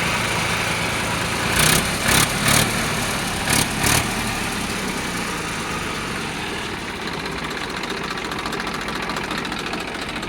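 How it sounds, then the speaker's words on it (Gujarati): A Sonalika 740 tractor engine idles steadily and close by, a continuous low rumble with a few brief louder bursts early on, then settling into an even drone. "તમે જોઈ શકો છો ટ્રેક્ટર ચાલુ છે."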